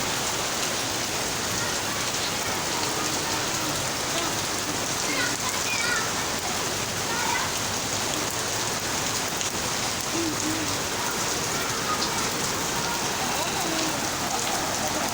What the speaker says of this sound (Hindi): अल्लाह पाक रहमत की बारिश करे, रहमत की।